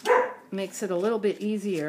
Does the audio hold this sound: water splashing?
no